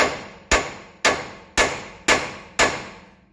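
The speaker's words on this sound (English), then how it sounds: "if you're afraid to smack these with a hammer" A hammer strikes the ball joints on a 6.7 Cummins-swapped service truck six times at an even rhythm, about every half second. Each metallic blow is loud and close and rings out briefly before the next hit.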